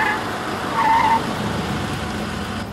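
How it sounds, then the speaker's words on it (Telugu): Two cars approach with a steady, loud rush of engine and tire noise on the road, swelling slightly about a second in before settling into a continuous drone. No one speaks. "రెండు కార్లు వచ్చినట్టున్నాయి."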